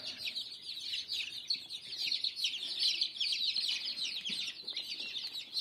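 Three-to-four-day-old chicks hatched in an old incubator peep nonstop under an infrared lamp near starter feed and water, a dense, high, overlapping chorus of many birds close by with no talking.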